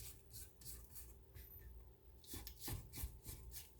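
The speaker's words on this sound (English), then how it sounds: "You can scrape your bowl down right now." Small rubber scraper dragging around the sides of a bowl of blueberry muffin batter, soft repeated rubbing strokes up close and faint, with no talking.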